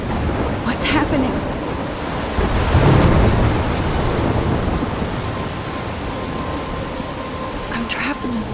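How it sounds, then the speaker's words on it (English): Steady rain pours through a thunderstorm in the video game Life Is Strange Remastered, and a deep rumble of thunder swells midway before easing back into the continuous downpour. "I'm trapped in a storm?"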